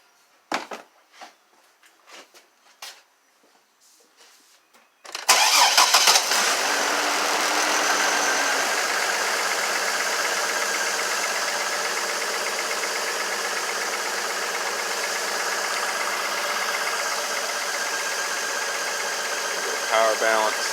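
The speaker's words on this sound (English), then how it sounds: "I'm gonna start up and see if the misfire changed." A misfiring GMC Envoy engine cranks and catches after some faint clicks, then runs steadily and loudly up close for about fifteen seconds with a slightly uneven hum, while someone speaks.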